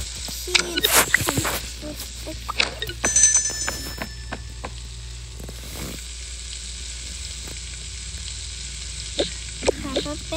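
Food frying on a stove in the Toca Boca game gives a steady, faint sizzle, with scattered clicks and short tones over it.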